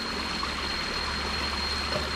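Cold water flowing from a stream source near a bridge in a secluded outdoor paradise spot, a steady close rushing and trickling wash with no voices.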